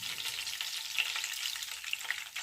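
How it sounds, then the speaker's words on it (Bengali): Ginger and garlic sizzle in hot oil for beef kosha, a steady close crackle of frying with a few brighter pops and no voices. "এগুলো 30 সেকেন্ড আমি তেলের মাঝে ভাজিয়ে নিয়ে খুব সুন্দর একটা গ্রান বাইরেছে।"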